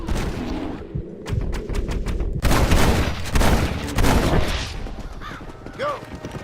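Rapid rifle and revolver gunfire aimed at a bear in Red Dead Redemption, a dense volley of sharp close shots and booming reports that thins into scattered pops, with brief voices and a bird call near the end.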